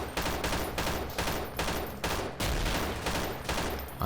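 Rapid SMG bursts fire in repeated volleys during a firefight in the shooter game S6 Freeman Guerrilla Warfare, loud and close, with short gaps between strings of shots.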